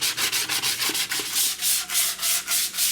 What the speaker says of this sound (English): I have 800 grit sandpaper just scuffing up this whole surface, trying to make a diffused cover for this.